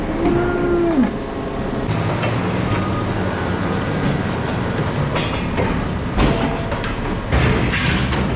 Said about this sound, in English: And as you can see, Kevin's in the back getting the cows in